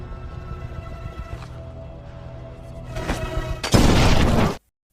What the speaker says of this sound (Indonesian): Akibat ledakan ranjau